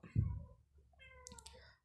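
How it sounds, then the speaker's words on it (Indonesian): A cat gives a short, close meow, then a second drawn-out mewing call after a brief pause. "mohon maaf kucing saya"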